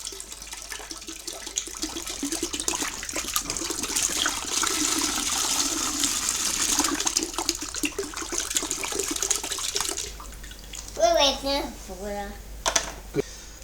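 Cold, clean water poured from a 2-litre bottle into a home-brew fermenter, a continuous splashing rush for several seconds, followed by a child and an adult talking.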